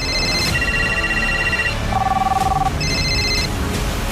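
Several telephones ringing in turn, bright electronic bell tones in repeated bursts of different pitches, overlapping and fairly loud, with no voices.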